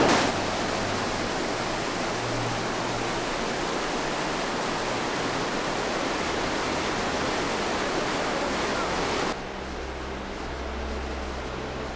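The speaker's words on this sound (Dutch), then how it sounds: "we hebben al ons eerste prachtige uitzicht op de watervallen die vannacht zijn ontstaan door de" Waterfalls created by overnight rain along the Milford Track give off a loud, steady broadband roar that holds constant before dropping slightly in level near the end, with no voices.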